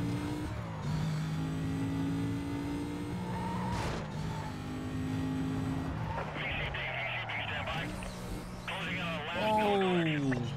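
Car engines drone and rev in Need for Speed: Most Wanted, with rising and falling pitch, tire skids and a whining sweep later on, while a voice talks over the action.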